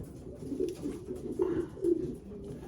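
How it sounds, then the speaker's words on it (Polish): Low, soft cooing of a large young pigeon repeats in gentle rounds over a steady murmur of background noise, during pigeon vaccination. "Duży, piękny, potężny gołąb."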